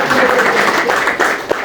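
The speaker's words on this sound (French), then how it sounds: "Sous vos applaudissements, s'il vous plaît." Audience applause at an evening event on Haitian cacao hosted by an ambassador, a dense burst of clapping from a room full of people, loud and sustained for under two seconds.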